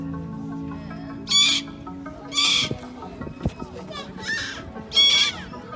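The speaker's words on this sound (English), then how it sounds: "they're two female red-tailed black cockatoos" Two female red-tailed black cockatoos at a zoo bird show give several loud, harsh screeching calls in separate bursts, close by, over a steady background hum with some low knocks.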